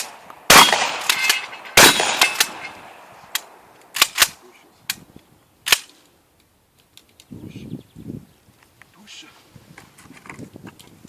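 Several sharp, loud gunshots crack out irregularly at a shooting competition, some close together, then fainter voices and rustling follow in a quieter stretch.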